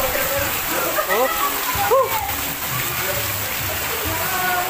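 Water splashing and running in a cold outdoor spot, a steady watery rush with a voice speaking intermittently over it.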